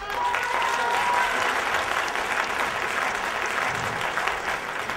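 Sustained audience applause in a theatre, a full, even roar of clapping lasting several seconds at steady loudness, with no talking over it.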